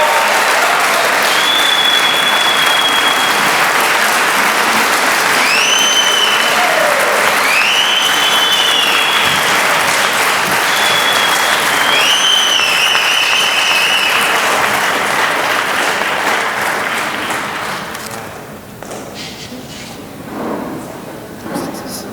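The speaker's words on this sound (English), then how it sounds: "Please give him a warm round of applause as he comes to the stage." Sustained, loud audience applause fills a gala hall as the guest of honor at the YEHUDI 5th Anniversary Gala walks to the stage. The clapping gradually fades near the end, giving way to quieter crowd murmur and a few brief whoops.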